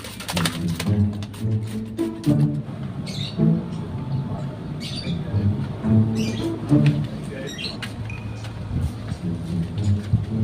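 A pet bird, probably a pigeon, coos repeatedly in low, rounded pulses while being bathed, with splashing and scattered clicks and rustles around it.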